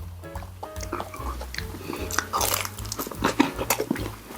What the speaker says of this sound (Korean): 군만두 하나 가야죠.